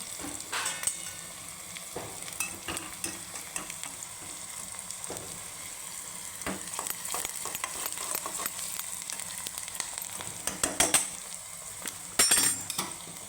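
Onion frying in a pan for Marathi-style toor dal varan, a steady close sizzle broken by repeated clinks and scrapes of a spoon stirring, with no talking.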